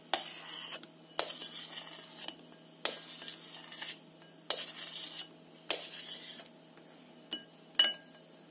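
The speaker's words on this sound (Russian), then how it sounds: "Отправляем их в салатник." Cut crab sticks are pushed off into a salad bowl in a kitchen, giving a series of short, crisp clinks and scrapes of utensil against dish, each followed by a brief pause, fairly close and with no talk.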